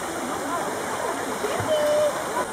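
Water rushes over small natural rock slides in a stream at Turner Falls, a steady broad roar of flowing water with occasional splashes, heard up close and loud; a voice briefly cuts in partway through.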